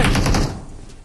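Rapid automatic gunfire from a pre-fire in the BGMI battle royale game, a loud, fast burst of closely spaced shots that cuts off partway through and leaves a short, quieter tail.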